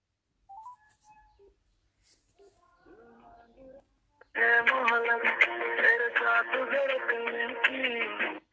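A few faint, scattered telephone beeps and tones, then a loud, steady tuneful ringback melody plays through a phone line.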